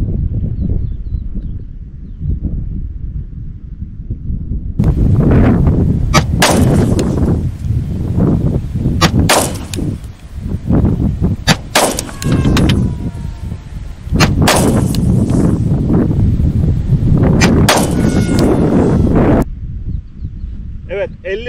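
A Walther P99 pistol fires at an outdoor range toward a 50-metre target, with sharp loud shots in a quick irregular series over wind noise and someone talking before the shooting.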